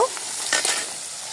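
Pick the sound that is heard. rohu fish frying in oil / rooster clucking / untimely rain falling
rohu fish frying in oil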